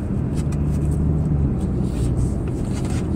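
A Dodge Challenger car driving, heard as a steady low engine rumble and road drone that stays loud and close throughout, with no speech.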